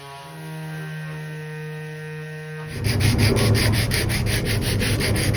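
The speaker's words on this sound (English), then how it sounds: "And now sanding, sanding, sanding, and more sanding." Steady rhythmic rubbing of sandpaper on wood, close and continuous with quick back-and-forth strokes, after a stretch of low hum.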